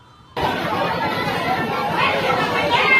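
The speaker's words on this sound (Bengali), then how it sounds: "গাইস দমদমে ভিড়টা একবার দেখো।" A crowd on the platform at Dum Dum railway station makes a steady, close babble of many overlapping voices, loud and continuous after a quiet start.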